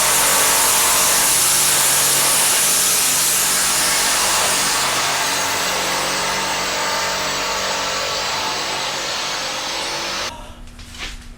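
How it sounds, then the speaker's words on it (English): Angle grinder cutting through a steel trailer frame, a loud, continuous high-pitched whine and grinding roar that drops away abruptly near the end, leaving quieter shop noise. "I use the angle grinder to cut this piece"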